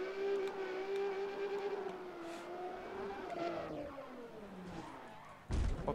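A car drifts in the racing game Need For Speed Pro Street, its engine droning steadily and shifting pitch as it slides, with tire squeal, then a heavy low thump at the end.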